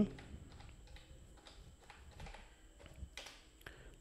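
Computer keyboard keys tapped in short irregular bursts, typing a stock name into a trading search box, faint and close with light clicks.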